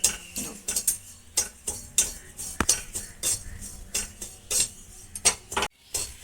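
Semolina gently stirred in a pan over a low flame while making malai roll, a spoon or spatula scraping and clinking against the metal in a steady run of close, sharp taps and scrapes, with no talking.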